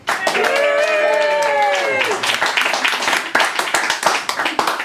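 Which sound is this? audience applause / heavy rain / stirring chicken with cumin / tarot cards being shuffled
audience applause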